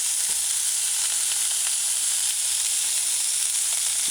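Meatballs and onions sizzle steadily in hot oil in a pan, a dense, even crackle that holds close and constant without pause.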